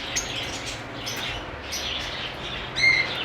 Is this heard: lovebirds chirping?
yes